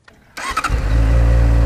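A new motorcycle's engine turns over after a short quiet moment, cranks briefly and catches, then settles into a loud, steady close-up rumble.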